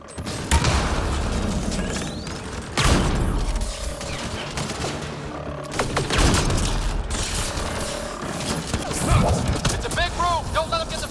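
Sustained gunfight from the sci-fi shooter Mass Effect Andromeda, fought inside a gun battery: dense, overlapping bursts of automatic weapon fire and booming impacts that keep up for the whole stretch, with a few loud surges and brief shouted voices mixed in.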